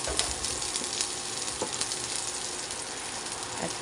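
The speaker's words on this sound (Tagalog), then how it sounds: "Umpisa na natin maggisa ng ating bawang. Sunod natin ang ating sibuyas." Garlic and then onion sauté in a pan for chicken with bitter gourd, giving a continuous close frying sizzle broken by occasional soft stirring clicks.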